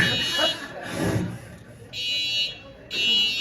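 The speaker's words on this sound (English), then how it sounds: "she keeps those alarms buzzing" A harsh fire alarm buzzer sounds in two long blasts, loud and close, while a voice speaks before and between them.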